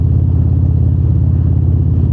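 A 2024 Harley-Davidson Road Glide with Screamin Eagle exhaust and Pro Street tune rumbling loudly and steadily around 2,000 RPM, a deep, even throb with no voices over it.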